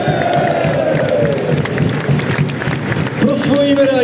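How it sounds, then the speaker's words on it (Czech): A crowd claps and cheers steadily through a football trophy ceremony, a dense continuous wash of applause while an announcer's amplified voice speaks over it. "prosím, velký potlesk pro hráče s číslem 4, Markus Solbakken"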